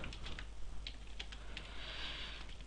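Typing on a computer keyboard while entering a server configuration file, a quick run of light, irregular key clicks close by with no voices.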